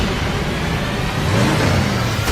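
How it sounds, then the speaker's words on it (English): The Batmobile from The Batman film revs its engine in a deep, mean, sustained roar that swells slightly toward the end, loud and close with no talking. "Revving up the engine."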